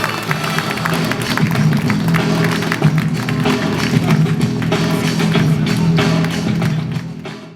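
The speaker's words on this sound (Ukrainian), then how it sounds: "Громче аплодисменты, друзья, вот он!" An audience applauds at the launch of new Volkswagen Caddy and Transporter commercial vehicles in Zhytomyr, steady loud clapping that lasts throughout, with crowd murmur and a low hum beneath.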